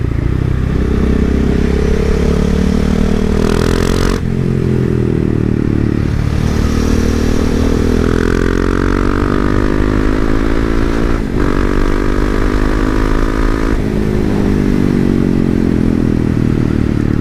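KTM 690 Duke R single-cylinder 690 cc motorcycle, 2017, accelerating hard with a loud, close, throbbing engine note rising through the gears, with brief shift breaks between pulls.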